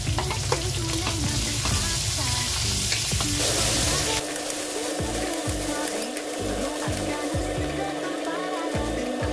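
Garlic fries in a pan for pakbet, a loud crackling sizzle with scraping and stirring, first dense and bright, then joined by rhythmic low clatter of a utensil against the pan.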